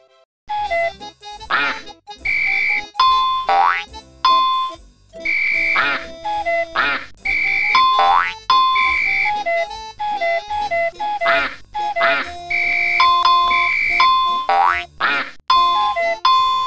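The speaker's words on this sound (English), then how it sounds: "Now click on the horns to help Sammy play along with the song." Cartoon horn notes from Sammy the Seal's band in the children's phonics game Curious George Learns Phonics, honking in short repeated bursts along with a bouncy, loud musical backing track with no talking.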